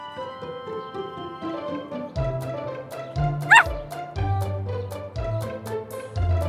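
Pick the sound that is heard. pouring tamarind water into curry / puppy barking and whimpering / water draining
puppy barking and whimpering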